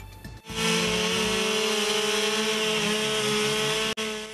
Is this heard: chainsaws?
yes